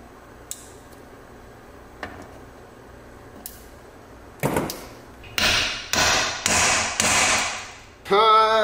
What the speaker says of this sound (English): then just hammer it on